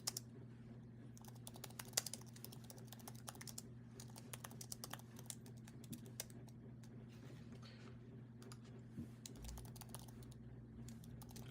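Quiet, rapid clicking of a computer keyboard being typed on in irregular bursts, close by, over a low steady electrical hum.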